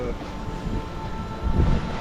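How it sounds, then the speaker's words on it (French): Wind rushes over a sailboat at sea, a steady broadband roar with microphone buffeting and a low rumble that swells toward the end, close and loud, with a voice speaking over it. "Ouais, pourtant il y a du vent, hein"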